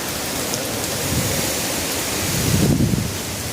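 Heavy rain from Hurricane Zeta pours down outdoors as a loud, dense wash of noise with gusting wind, swelling and rumbling stronger toward the end, with no talking.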